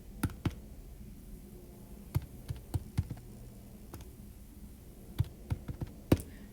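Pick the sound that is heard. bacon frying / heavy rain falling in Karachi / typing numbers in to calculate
typing numbers in to calculate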